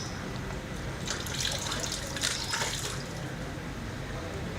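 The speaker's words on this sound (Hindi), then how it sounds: "पानी में अच्छे से ऐसे वाश कर ले।" A neti pot being rinsed in water, soft continuous splashing and trickling close by with a few louder sloshes in the middle.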